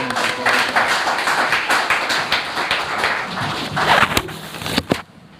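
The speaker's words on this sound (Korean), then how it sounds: "여러분 박수로 격려하겠습니다" Audience at a lecture on Korea's Framework Act on Healthy Families and anti-discrimination law clapping to welcome a professor to the podium. Moderate clapping from a room of people carries under room noise, with a few sharper claps before it stops.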